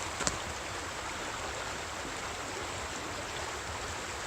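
A stream flows through Whitaker Swamp State Forest in Broome County, New York, as a steady, unbroken rush of water close by, with no voices.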